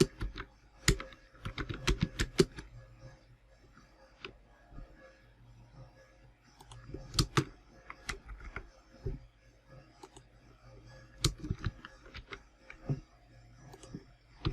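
Bursts of quiet close keystrokes on a computer keyboard, clicking quickly in short runs separated by pauses, with light tapping between and no voices.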